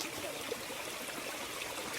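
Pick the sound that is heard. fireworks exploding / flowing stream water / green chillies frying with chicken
flowing stream water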